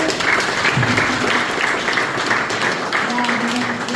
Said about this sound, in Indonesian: Kita tepuk tangan sekali lagi buat Pak Samsul.